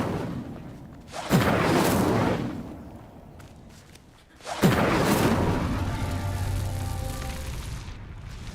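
The Incendio fire spell in Hogwarts Legacy ignites pyres with two loud whooshing bursts, each swelling and then fading into a roaring crackle. The second blast is followed by a sustained rumble.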